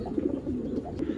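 Black tournament racing pigeons coo in a low, steady, rolling murmur that runs through the whole moment at moderate volume, with a few soft bird calls over it and no talking.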